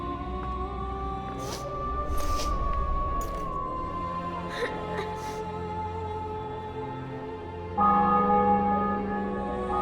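Church bells ringing in The Witcher 2: Assassins of Kings, with several bright strikes early on over a steady low game ambience and drone.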